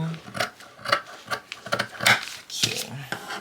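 Fabric scissors cut through corset fabric in a run of crisp snips and slides, close and irregular, with faint murmuring talk between the cuts.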